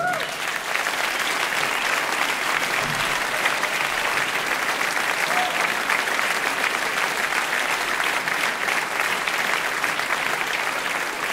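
Sustained, dense audience applause at a jazz concert at Jazz Baltica 2007, welcoming an Austrian guitarist on stage with a big band; steady and loud throughout, with no talk over it.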